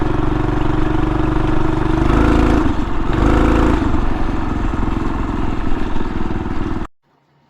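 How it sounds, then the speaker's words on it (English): Loud, steady engine drone from a Phatmoto motorized bike exhausting hard on a hill climb, close and continuous with throttle surges around the middle, then cutting off abruptly near the end. "the exhaust on that bike was actually louder than what I thought"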